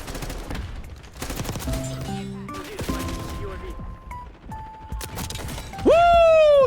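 Gunfire crackles in rapid bursts in a shooter video game, with mechanical clicks, tonal interface beeps and a loud swooping blast near the end; voices chatter underneath at times.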